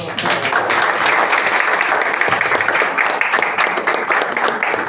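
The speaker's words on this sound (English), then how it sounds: "Thank you, applause." Loud, dense applause from a crowd, steady clapping filling the whole stretch without a break.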